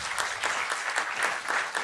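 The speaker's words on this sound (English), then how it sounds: "Please give her a round of applause." Brief burst of audience applause at a book launch, steady moderate clapping from a crowd with no voices over it.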